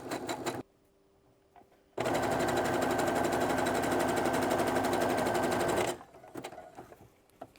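A sewing machine stitches an elastic seam for children's knickers in one loud, steady run of rapid needle strokes lasting about four seconds, with quiet handling noises before and after.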